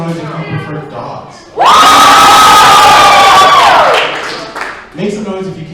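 Loud burst of audience cheering and whooping at a drag comedy night, following a short spoken line, holding strong for a couple of seconds with some clapping before trailing off as a voice resumes.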